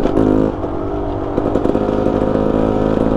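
A Beta Xtrainer 300 two-stroke off-road motorcycle engine pulls hard in third gear, with a loud, close, steady drone and a slight lift as it accelerates, with no talking.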